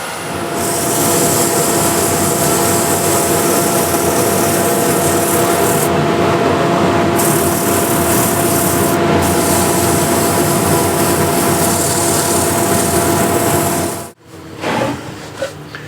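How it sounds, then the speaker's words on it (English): Sandpaper rubbing the beaded outside of a turned wood vase spinning on a lathe, a steady loud abrasive hiss with a lathe motor hum running continuously, cutting off near the end as the lathe stops. "So now I can sand the outside, these beads here"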